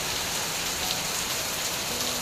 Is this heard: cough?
no